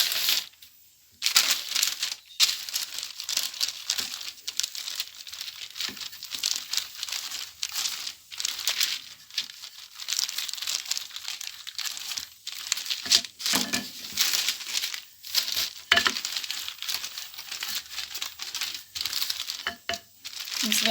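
Baking paper for shortbread cookie dough crinkles and rustles close up in repeated bursts of crackling, broken by short pauses, with no voices.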